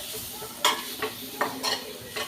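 Spices and curry leaves sizzling as they roast in a hot pan, with four or five sharp scraping stirs of a spoon breaking through the frying hiss.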